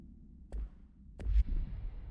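The redacted sound effect from the video game Control: two sharp, bright digital bursts, each followed by a low rumbling swell, heard alone and fairly quiet.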